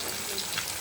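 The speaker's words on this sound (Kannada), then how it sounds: "ನೋಡಿ, ಫಿಶ್ ಫ್ರೈ ಆಗ್ತಾ ಇದೆ, ಡೀಪ್ ಫ್ರೈ." Rohu fish deep-frying in plenty of oil gives a brief, soft, steady sizzle close by.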